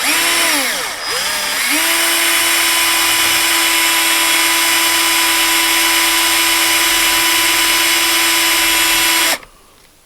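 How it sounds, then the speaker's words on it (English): A power drill whines loudly at a steady pitch for several seconds after a brief stutter, then cuts off abruptly, its bit failing to bore into hardened metal on a steering shaft. "I don't think these drill bits are going to go through this hard metal"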